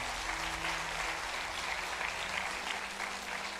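Steady applause from a church congregation fills the space, a dense even patter with a faint background hum and no talk over it.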